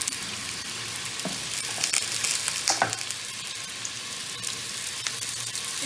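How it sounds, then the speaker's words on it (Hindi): Okra frying in a pan of oil, a dense, steady sizzle close up with occasional sharper crackles and stirring scrapes, no talking. "ये 1/8 कप मैंने एक पैन में अपना तेल डाला है, और इसमें हम अपनी भिंडी को फ्राई कर लेंगे।"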